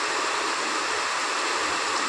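Summer rain falls steadily at night, a dense, even hiss of pouring water with no other sounds.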